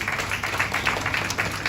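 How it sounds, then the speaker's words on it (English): An audience at an Indian cultural centre anniversary event gives a round of applause, dense steady clapping from many hands for a brief moment. "A big round of applause, ladies and gentlemen"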